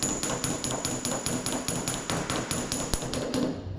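A metal body hammer strikes sheet metal backed by a dolly, giving a steady rapid series of sharp, close, ringing taps, about four per second.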